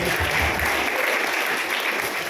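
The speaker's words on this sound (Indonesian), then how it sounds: "Bagi satu aplaus kepada PT." An indoor audience at a leadership training event in Bandung applauds, a dense, steady burst of clapping close by with no pauses.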